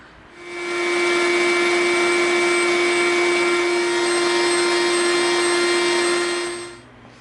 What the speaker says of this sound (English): we are going to do a mammoth amount of dremeling these edges off to be round